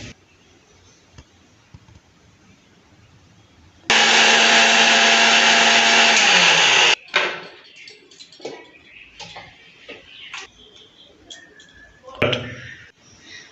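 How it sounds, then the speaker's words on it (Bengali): A mixer grinder grinds half an inch of ginger with five or six green chillies into paste for a drumstick fish curry, a loud steady whirring roar lasting about three seconds before stopping, followed by kitchen clatter. "এবার আমি আধ ইঞ্চির মতো আদা আর 5-6টা কাঁচা লঙ্কা বেটে নেব।"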